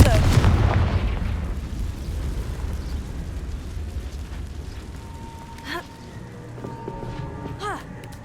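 A loud Confringo explosive spell blast goes off in Hogwarts Legacy, opening with a heavy boom that rolls and fades over several seconds, followed by lighter magical chimes and shimmering effects.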